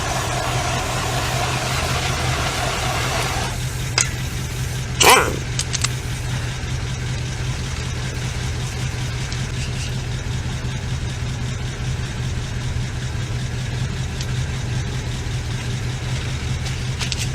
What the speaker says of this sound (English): If you're wondering why I'm keeping the truck running, I want it to warm up.